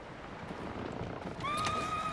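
A horse in the video game Ghost of Tsushima lets out a clear, rising whinny near the end, over a soft outdoor ambience with faint rustling.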